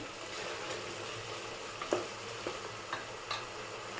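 Oil frying in a pan for fenugreek rice (menthya bath), a low, steady sizzle with a few soft clicks and taps of stirring, fairly faint and without talk.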